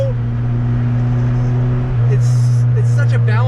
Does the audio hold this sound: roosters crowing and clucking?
no